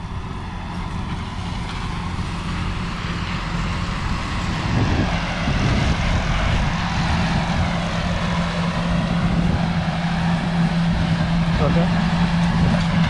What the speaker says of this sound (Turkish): Erkut marka traktör.